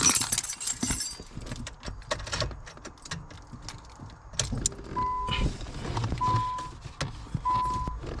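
Car keys jangling as the key is plugged into the ignition of a 2006 Nissan Sentra, close metallic rattles and clinks with mechanical knocks and a few brief electronic beeps, all fairly quiet.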